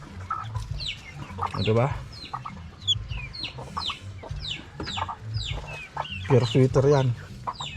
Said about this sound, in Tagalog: dito na yung mga manok natin oh